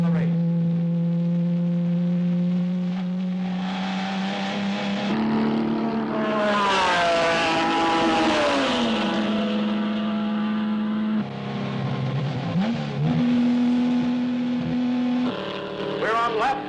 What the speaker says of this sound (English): We're on lap 2 with the leading cars beginning to really turn on the circuit